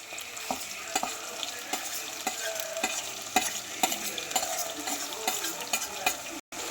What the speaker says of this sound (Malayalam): കുറച്ച് കറിവേപ്പില നല്ല വഴറ്റി റെഡിയാക്കുക.